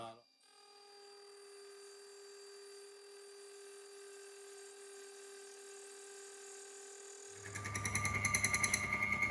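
Machine tool, likely a lathe or mill, makes cuts of about ten thousandths on a hit-and-miss engine crankshaft held near a vise: a steady tonal whine for several seconds, then louder rattling cutting noise near the end.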